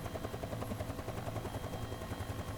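Simulated UH-1 Huey helicopter in X-Plane 11, its rotor beating in a steady, fast chop with a dense engine roar throughout, no talk.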